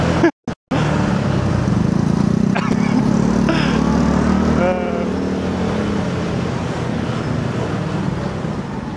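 A motorbike taxi weaves through Bangkok traffic, its engine droning steadily up close amid road noise, with voices talking now and then.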